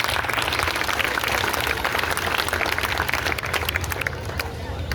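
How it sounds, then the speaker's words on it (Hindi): An audience at a Guru Purnima yoga and health gathering breaks into sustained, dense applause, loud and continuous with crowd murmur mixed in, tapering slightly near the end. "तो जोरदार तालियां।"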